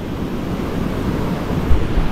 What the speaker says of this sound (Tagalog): Parang lumakas yung waterfall.